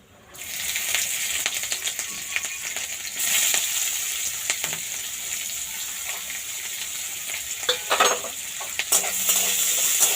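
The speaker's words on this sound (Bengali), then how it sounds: "পেঁয়াজটা আমি ভেজে নেব।" Sliced onion frying in hot oil with cumin seeds and green chillies, a steady close sizzle running throughout, broken by occasional scrapes and stirring clinks of a spatula in the pan.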